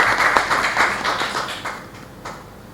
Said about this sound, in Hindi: उनके लिए ताली बजा दीजिए।